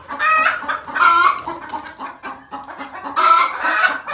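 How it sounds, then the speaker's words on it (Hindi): Hens in a coop cluck and squawk in loud, agitated bursts, with a rooster-like crow mixed in; the calls come close and overlapping in waves with brief lulls between. "अंदर मुर्गियों ने पता नहीं क्या शोर मचाना शुरू कर दिया।"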